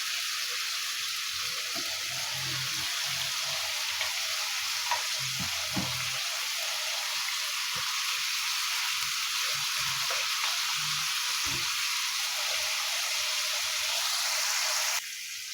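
About 1.5 kilos of chicken with roughly seven garlic cloves sizzles steadily in a pan for a chicken makhani karahi, a loud continuous hiss with occasional stirring knocks and no talk.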